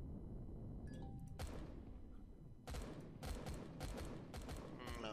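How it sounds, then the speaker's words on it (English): Sentry guns on a capital vessel in the space survival game Empyrion firing in rapid bursts, dense repeated gunfire cracks with thuds and mechanical clanks, loud and continuous over several seconds. "my sentry guns on my CV are going to be like constantly shooting it"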